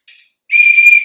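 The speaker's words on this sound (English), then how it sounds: "we'll just screw the whistle into cylinder number 1. I'll take a wrench and turn it over" A compression whistle screwed into the number one cylinder of a 1953 Packard engine gives a faint short peep, then one loud, steady high whistle as the engine is turned over by hand with a wrench.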